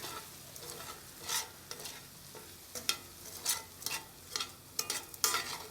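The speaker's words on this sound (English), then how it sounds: "Stir it all in. Let that rice cook up for a bit." Paella rice being stirred in a pan over a campfire: repeated scraping strokes of a spoon against the metal pan over a soft, steady sizzle, close and fairly quiet, with no voices.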